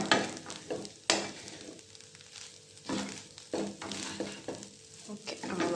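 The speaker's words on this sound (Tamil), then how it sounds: "கலக்கணும், நல்லா கலக்கிட்டு மூடி வச்சுட்டேன்." Onion and tomato fry in a pan while a utensil stirs them, producing irregular scraping strokes over a low, steady sizzle, close and fairly quiet, with no talking.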